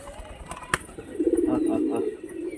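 Heavy light Bali pigeons with yellow eyes, a male and a female, give a low, throaty cooing close by. A sharp knock comes before the call, and a voice talks in the background.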